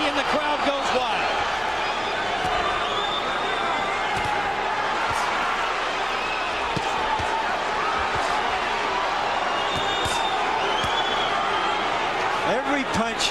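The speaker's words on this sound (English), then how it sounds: "the crowd goes wild" A boxing arena crowd roars loudly and continuously at a Johnny Tapia versus Danny Romero fight, a dense, sustained wall of cheering with occasional sharp peaks and a commentator talking over it.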